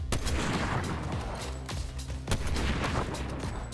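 Sniper rifle shots in a LEGO shooter video game, sharp loud reports firing in a rapid uneven series over dense battle noise, with no talk over them.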